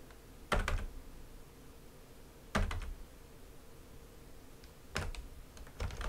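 Short clusters of computer keyboard keys pressed together, as when entering a Ctrl Shift Space shortcut in ZBrush, come in four brief clicky bursts spaced a couple of seconds apart, close and fairly quiet against a soft room hiss.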